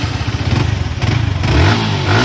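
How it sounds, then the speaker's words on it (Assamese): A Yamaha R15 version 4 motorcycle engine runs close by with a throbbing idle that rises slightly in pitch as it is revved near the end. "এফালে আছে ভাৰ্সন 4 R15 আপোনালোকে আৱাজটো চাই লওক"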